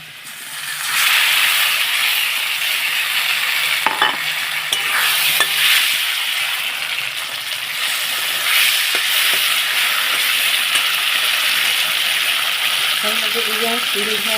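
Ground spice paste with turmeric fries in a pan for a potato, pointed gourd and paneer curry, a loud, close, continuous hissing sizzle with stirring scrapes and a voice now and then.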